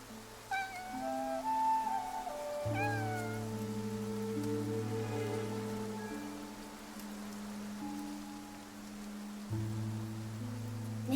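A cat in the video game Infinity Nikki gives a few rising meows early on over rain pattering softly and sustained low musical tones.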